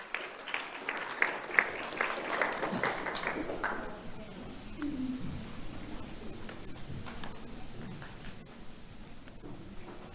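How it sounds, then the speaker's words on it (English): An audience at a community awards ceremony applauds two honored elementary school students, with loud clapping that fades after a few seconds into a quieter hall with scattered rustling and light voices. "Let's have a round of applause for Mary and Madeline."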